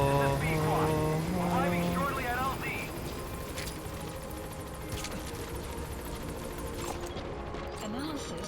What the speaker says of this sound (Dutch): Oké, we gaan de helikopter roepen.